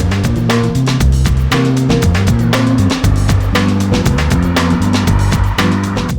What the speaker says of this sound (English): acceleration on the RC, this one here, the regular one with F Sport package, it's not bad